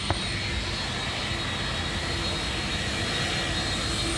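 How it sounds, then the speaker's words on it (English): A P-8A Poseidon maritime patrol jet passes at an airshow, giving a steady, loud broadband roar of jet engines that holds evenly throughout without a break. "P-8A Poseidon aircraft, the next generation in maritime patrol. As it pulls past"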